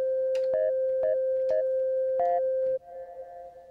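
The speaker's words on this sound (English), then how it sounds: "once I let go, you'll hear the reverb trailing off" A sustained synth tone with short repeated blips on top, then it cuts off and a soft gated reverb tail lingers and fades out.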